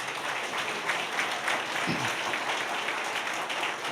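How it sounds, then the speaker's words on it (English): Steady applause from the audience at a public service award ceremony, a dense continuous wash of many hands clapping at moderate distance, unbroken for the whole stretch. "Let's give them another big round of applause."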